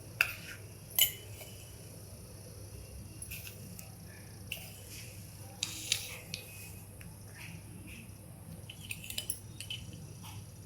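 Metal spoon clinking against a dish while salt is measured for lemon pickle, a few sparse, light clinks and taps over a quiet hum of background noise.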